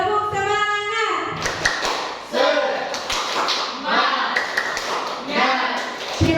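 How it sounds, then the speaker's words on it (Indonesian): A group of participants at an Indonesian teacher-training session performs a rhythmic spirit clap, a patterned sequence of hand claps and taps coming in bursts, with voices chanting along over it. "kalau masih semangat mungkin bisa tepuk semangatnya dulu. Tepuk semangat."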